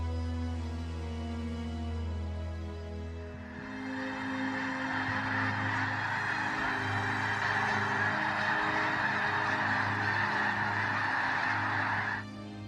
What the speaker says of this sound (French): Regardez les oiseaux du ciel